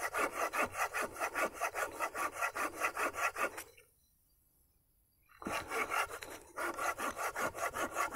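A Tajima G-Saw 210 folding saw cuts through a fresh green tree branch in fast, steady rasping strokes, pauses for about two seconds, then resumes the same brisk back-and-forth rhythm.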